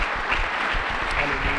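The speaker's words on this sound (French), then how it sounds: "applaudissons le Seigneur" A church congregation applauding during a Sunday service, steady dense clapping that fills the room evenly, fairly loud and continuous throughout.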